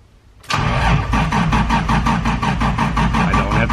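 A car engine cranks and catches after a brief quiet moment, then runs loud and steady with a rhythmic pulsing idle through to the end.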